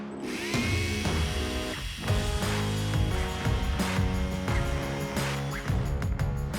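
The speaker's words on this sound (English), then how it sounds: "battery-powered chainsaws" A Stihl battery-powered chainsaw whirs with an electric motor whine that rises and falls in repeated bursts of revving, fairly close and moderately loud, with no speech.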